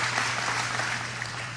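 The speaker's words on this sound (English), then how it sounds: "Listen to those people clapping." A crowd applauds in a steady, dense wash of clapping with no gaps, heard at moderate distance over a low hum.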